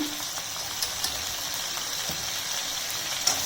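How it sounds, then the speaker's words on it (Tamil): Bitter gourd sautés in a pan with salt and turmeric for a thokku, giving a steady, soft sizzling hiss with a few faint stirring clicks and no voices. "அப்படியே போட்டு நல்லா வதக்கி விடுங்க"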